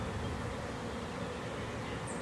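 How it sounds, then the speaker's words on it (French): Dense, steady buzzing of a honeybee swarm gathered around a small hive box while bees still cling to a nearby branch during a swarm capture in Italy, continuous and close with no talking. "Il y a encore quelques abeilles sur la branche parce qu'il y a encore les phéromones de la reine."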